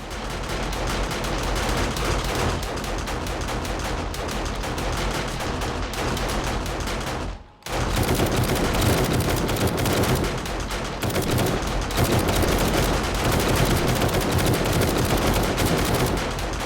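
Automatic turrets in 7 Days to Die fire in dense, relentless rapid bursts, a loud continuous hail of gunfire with only one brief break partway through.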